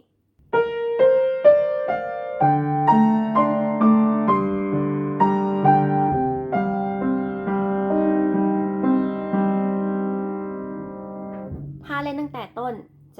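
A piano plays a slow melody of single notes from the hook of the theme of Wanthong, building into sustained, ringing chords, and a voice speaks briefly at the very end.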